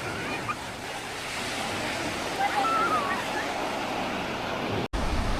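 Sea waves at Juhu Beach in Mumbai, a steady broad wash of surf heard from the shore with wind noise on the microphone and faint distant background sounds, cutting out abruptly near the end.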